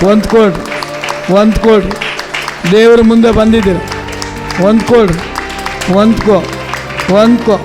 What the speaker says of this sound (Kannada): ಜೋರಾಗಿ ಚಪ್ಪಾಳೆ ಹೊಡೆದು ದೇವರ ಅಭಿಷೇಕ